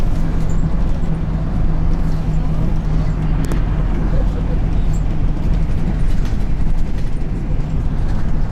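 Interior of a city bus during a ride in a provincial Russian town, with a steady low engine rumble and road noise running throughout, loud and close, while a voice talks over it.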